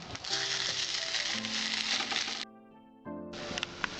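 Egg toast made with bread frying in a pan after being flipped gives a steady close sizzle, with an electronic tone under it, a short drop in the frying sound near the middle and then a return to full sizzle.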